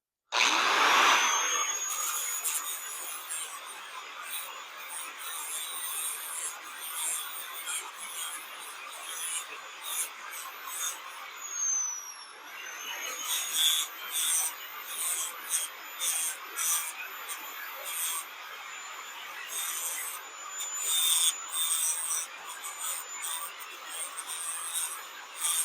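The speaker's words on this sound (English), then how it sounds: "So I'm going to have to use the death wheel to kind of shape this out" A rotary sanding wheel shapes a wooden shamrock, giving a continuous high whine and gritty rasp that swells and dips as the wood is pressed in, with a brief pause partway through.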